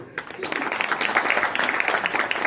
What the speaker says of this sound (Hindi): बहुत बढ़िया, बहुत बढ़िया, ताली बजाओ इनके लिए।